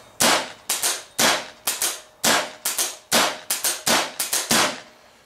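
A pump paintball gun with pneumatic assist fires a rapid string of about fifteen sharp, loud pops in uneven bursts, close by with no talking.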